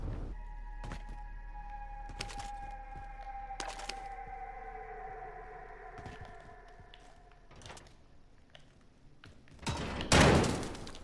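Gunfire in the Warzone video game: a scattering of sharp, separate shots over a steady electronic whine, ending with a louder burst of noise near the end, with no talking.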